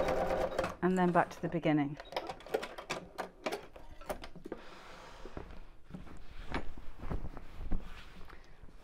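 A domestic sewing machine stitches a viscose bag with quiet, rapid, steady needle clatter. Someone speaks briefly at the start.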